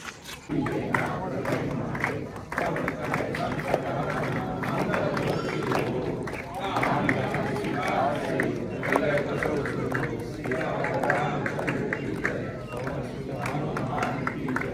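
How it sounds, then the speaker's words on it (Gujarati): A large, dense crowd bustles at a Hindu temple, a continuous murmur of many voices with shuffling footsteps and occasional louder calls filling the space at moderate distance. "ફૂલ ભીડ છે, જો જબરજસ્ત."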